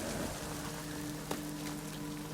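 Steady rainfall in the video game Ghost of Tsushima, a constant soft hiss of drops with a faint low hum beneath, no voices.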